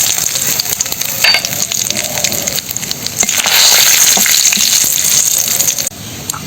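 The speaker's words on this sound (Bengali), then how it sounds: "এবারে কড়াই ফোড়ন দেব কড়াই দিয়ে দেব জিরে তেজপাতা শুকনো লঙ্কা" Steady, loud sizzling of cumin, bay leaves and dried red chillies frying in hot oil in a wok, swelling briefly in the middle, with occasional crackles and scraping.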